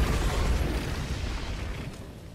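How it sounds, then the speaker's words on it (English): A short, loud explosion in the Destiny 2 video game: a broad rumbling blast that decays into a fading roar over about two seconds, with no talking. "It's exploding."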